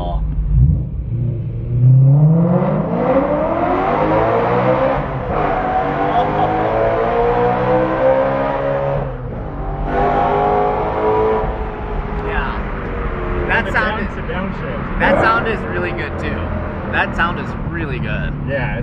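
A 530whp widebody BMW 135i time-attack car revs and accelerates up close, its engine note rising and falling in sustained harmonic sweeps, with people talking excitedly over the sound throughout.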